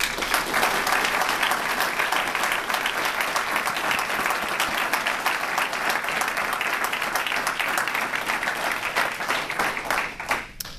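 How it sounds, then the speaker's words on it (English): Sustained applause from an audience honoring seven award recipients at a Department of Defense Spirit of Hope Awards ceremony, steady dense clapping throughout, fading slightly at the end. "Ladies and gentlemen, please give our seven honorees a round of applause."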